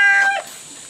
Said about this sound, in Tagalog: meron lang isang inahin.